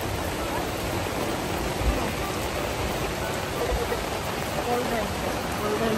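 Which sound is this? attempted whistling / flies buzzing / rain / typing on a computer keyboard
rain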